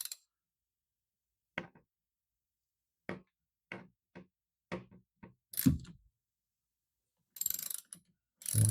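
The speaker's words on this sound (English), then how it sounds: "we will take our 10 millimeter socket and we will loosen this off" A ratchet with a 10 mm socket loosens a car battery terminal in short, separate bursts of sharp clicking. Each burst is close and crisp with quiet pauses between them, and a louder clatter comes near the end.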